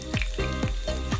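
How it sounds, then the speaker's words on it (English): Food frying in a pot for a breakfast dish, a steady close sizzle with regular stirring or scraping strokes about every half second. "this is the closer look of it frying in the pot"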